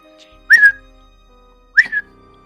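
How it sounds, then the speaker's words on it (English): A person whistles two short rising-falling notes about a second apart, close and clear against near silence, in a dark wonderland tale told as a oneshot. "as he starts getting closer, you hear him whistle"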